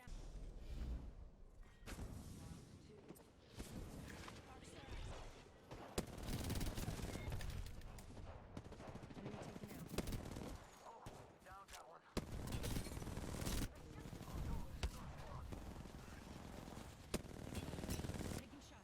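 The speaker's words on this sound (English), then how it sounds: "Taking shots. Firing." Rapid bursts of automatic gunfire ring out in the video game Apex Legends, overlapping volleys with thumps and whooshes, loud and dense throughout, with a voice talking over the action.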